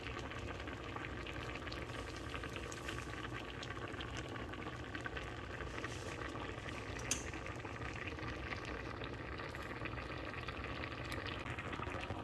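A Jaffna-style green tomato curry made with coconut milk boils in a pot, giving a continuous, even bubbling hiss that stays fairly faint and unchanged throughout, with no talking.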